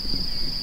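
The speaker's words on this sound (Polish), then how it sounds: "jak ćwierkają świerszcze." Crickets chirp steadily in a quiet outdoor setting at a memorial in Łambinowice, Poland, a continuous high-pitched trill over faint low background rumble.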